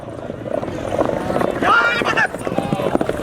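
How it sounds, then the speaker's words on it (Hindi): Horses gallop at a tent pegging horse show in Gujrat, their hoofbeats mixing with a rumbling crowd and a swelling commentary voice over a loudspeaker. "घोड़े जनाब स्पीड बने हैं"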